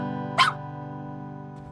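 A dog lets out a single sharp bark during leash training, loud and brief against a steady low hum, then the scene settles back to quiet background.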